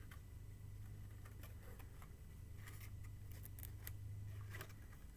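Scissors cutting paper around a cut-out for an abstract person craft, heard as a run of soft, irregular ticking snips that grow busier toward the end over a steady low hum, quiet and close.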